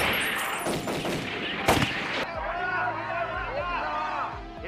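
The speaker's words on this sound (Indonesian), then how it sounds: "Aksi tembak-tembakan pun tidak dapat terhindarkan." A burst of rapid gunshots from a film shootout cracks loudly in the first two seconds, then gives way to a busy scene with overlapping voices and clatter.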